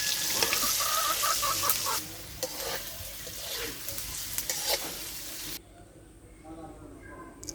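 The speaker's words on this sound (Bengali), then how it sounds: "এখানে হলো পটল ভাজতেছে" Pointed gourd (potol) pieces sizzle loudly in a frying pan with repeated stirring clatter, then the sound abruptly drops to a much quieter background.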